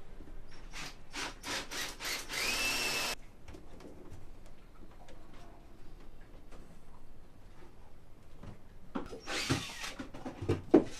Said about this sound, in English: And Eddy is drilling many holes through the boat.